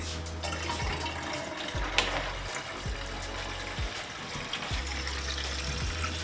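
Fluid poured from a container to refill a drift car while it is prepped for the track, a steady gushing, glugging stream at moderate level with a few small knocks and clinks, no talking.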